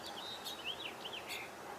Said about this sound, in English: I'm hearing chickadees